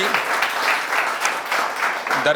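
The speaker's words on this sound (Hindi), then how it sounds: "तो एक बार धर्मेंद्र जी के लिए भी ताली बजाओ भाई" Audience applause in a Hindi news studio, a steady wash of clapping that runs continuously and fairly loud throughout, with some speech-like murmur mixed underneath.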